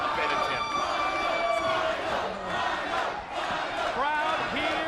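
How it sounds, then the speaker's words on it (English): A wrestling crowd at the Impact Zone cheers during TNA Sacrifice 2006, a steady dense roar of voices with whoops and shouts rising throughout, under a commentator's talk. "Crowd here at the Impact Zone and Sacrifice, cheering for Rhino."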